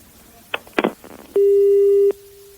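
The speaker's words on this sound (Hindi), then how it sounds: "तो जावेद रशीद ने फिर से फोन काट दिया है" Telephone busy signal sounding after a call is cut off: a steady, loud continuous tone following a few short clicks and handset noises, holding for most of a second before stopping.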